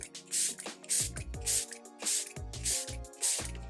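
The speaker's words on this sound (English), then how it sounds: "It's a good setting spray, so just shake it up a bit." Fenty Beauty makeup setting spray hisses from a mister in six short, even bursts close by, with clicks of the pump between each spray.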